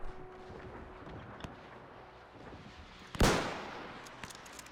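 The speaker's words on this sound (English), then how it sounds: "Oh, someone's shooting at me." Gunfire in the WW1 game Between Empires, with scattered faint distant shots and one loud sharp crack near the end that fades in a short echoing tail over quiet battlefield ambience.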